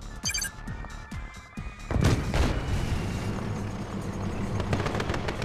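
Bombs explode in Red Alert 2: Yuri's Revenge, a burst of crackling blasts and a heavy boom followed by a sustained rumbling roar of battle, with no voices.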